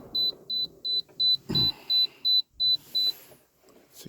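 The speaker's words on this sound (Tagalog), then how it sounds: "So nag-alarm. Water full na daw." A dehumidifier's full-water-tank alarm sounds as a steady series of nine short, evenly spaced electronic beeps, clear and close, with faint room noise and a brief rustle partway through.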